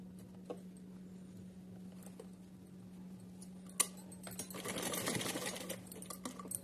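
A sewing machine stitches cotton cloth for a small summer outfit. Faint ticks and handling taps come first, then a short motor-driven run of stitching stands out in an otherwise quiet room.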